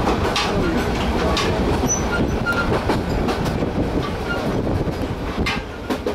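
Railroad carriage rolling on rails at night, a continuous loud rumble inside the dimly lit wagon with rhythmic clickety-clack of the wheels and occasional faint squeals, no voices.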